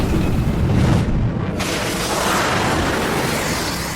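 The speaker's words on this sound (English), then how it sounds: "I fired a second Sidewinder, which went up and detonated by his tailpipe" A Sidewinder missile detonates beside a MiG's tailpipe in a single loud, deep blast that rolls into a sustained rumbling roar and slowly fades, with no voices.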